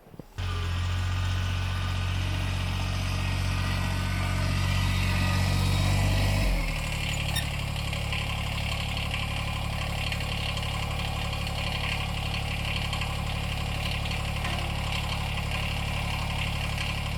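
Kubota BX compact tractor engine idling steadily with a low, even drone, briefly louder at first then settling to a constant idle, close by with no talking.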